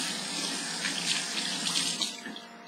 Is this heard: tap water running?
yes